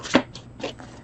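Tarot cards being shuffled by hand: a few short, crisp riffling bursts with brief pauses between, close and fairly quiet.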